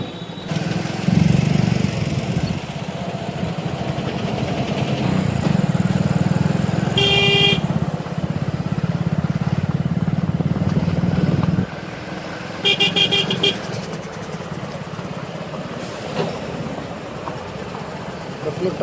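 Roadside traffic near Mangi village, with long lines of vehicles backed up behind an overturned truck carrying maize: a steady, close rumble of car and motorcycle engines, broken by several sharp horn blasts and short toots, with faint voices now and then.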